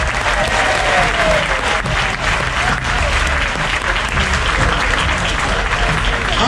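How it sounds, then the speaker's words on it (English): Cruise ship passengers aboard the Carnival Legend give loud, sustained applause for the team captains, a thick unbroken roar of clapping from a large crowd with some cheering mixed in, lasting over six seconds. "So how about a round of applause to our team captains?"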